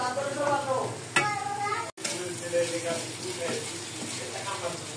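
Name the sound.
sizzling spices being fried and stirred for crab curry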